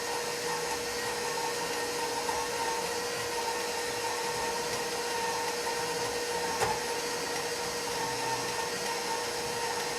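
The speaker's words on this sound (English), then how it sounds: "I am going to start my mixer and let that get really soft and going there." An electric kitchen mixer runs continuously with a steady high whine and hum, softening ingredients at close range without any talking.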